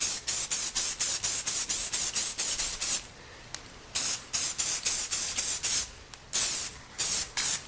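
Spray paint or sealer misted onto rocks gathered from a beach, loud close bursts of hissing spray in quick regular pulses, a short pause partway, then more rapid bursts.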